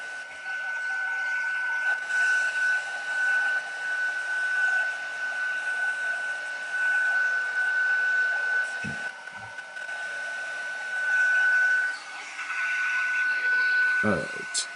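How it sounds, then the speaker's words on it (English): Heat embossing tool blowing steadily over a card, a constant whirring hiss with a faint tone, running for most of the span with a brief cut near the middle and a stop at the end. "It's always hard for me to talk while doing heat embossing."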